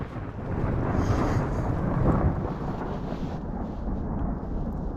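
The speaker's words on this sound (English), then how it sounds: "I didn't know thunderstorms happen in the snow" A deep, broad rumble of thunder during a snowstorm rolls on for several seconds, loud and continuous, with a low roaring swell near the middle.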